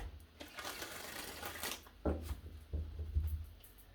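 Tarot cards being shuffled by hand, with papery riffling bursts and soft taps, the quicker riffles clustered in the second half, close and fairly quiet with no talking.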